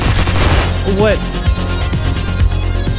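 Rapid gunfire in the top-down shooter Hotline Miami 2: Wrong Number, a burst of loud, closely spaced shots mixed with game sound, while a player talks over it.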